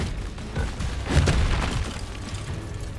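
A muffled booming explosion from the Bombarda spell in Hogwarts Legacy swells in the middle and then fades into a low rumble, with no talk heard.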